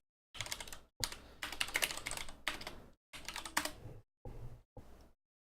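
Fast, steady typing on a computer keyboard fills several bursts of dense key clatter separated by short pauses, close and clear with no talking.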